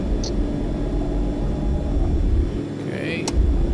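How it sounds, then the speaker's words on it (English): Quest Kodiak turboprop in X-Plane 11 with its flaps extending: a steady low engine rumble runs throughout, and a brief whirring sweep from the flap motor rises near the end, with a sharp click just after. "I like the sounds of the flaps."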